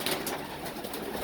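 Homing pigeons coo softly in a loft with dense, breathy bird murmuring throughout. No voices are heard.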